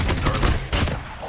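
Rapid bursts of M4 rifle fire from the Call of Duty game, a loud fusillade of closely spaced shots that stutters briefly near the middle before another volley.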